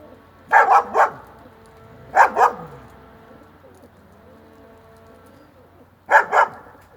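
A dog near a pigeon loft barks in three quick double bursts, fairly close and loud, separated by stretches of quiet background hum.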